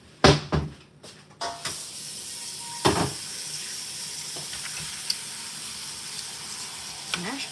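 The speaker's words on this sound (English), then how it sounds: "we better start boiling some water too." Water from a kitchen tap runs for boiling while a meal of peas, mashed potatoes and meat is prepared, a steady close stream after a few sharp clatters and knocks at the start.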